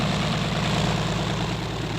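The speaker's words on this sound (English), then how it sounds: "Testing the XR-8 helicopter, an experimental ship built for the Army." A six-cylinder air-cooled engine drives the experimental XR-8 synchropter helicopter with twin intermeshed three-bladed rotors, a loud, steady low drone with a throbbing idle-like pulse and no voices.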